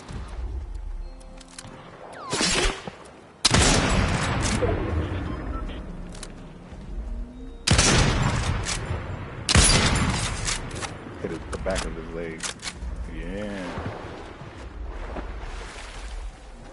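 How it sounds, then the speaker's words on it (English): Sniper rifle gunfire in the video game Fortnite, several sharp, loud cracks spaced seconds apart, each with a short echoing tail, while a voice talks in between. "Sounded like it came from over here. A sniper shot."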